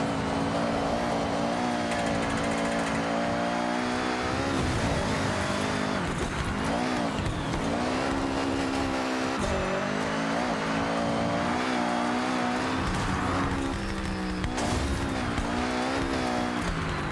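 Car drifting in Forza Horizon 6, loud engine roaring and revving with wavering pitch as the car slides, tire squeal mixed in, continuous throughout with no talk.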